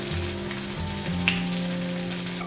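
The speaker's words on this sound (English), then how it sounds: "Boil a little vegan oil and fry the tofu to golden color." Tofu sizzles and fries in hot vegan oil in a pan, a steady close crackle with small pops.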